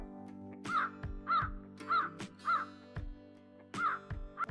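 Crow cawing in a forest setting, six loud harsh caws in an uneven series, close and clear with no talk over them.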